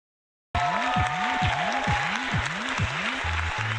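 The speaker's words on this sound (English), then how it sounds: "And then you're gonna throw a fake applause behind it to make yourself feel better about that shit." Canned applause sound effect rising abruptly after silence and continuing as a steady, even wash of clapping, with repeating electronic tones looping over it throughout.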